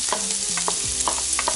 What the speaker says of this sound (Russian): И лук только слегка нужно припустить.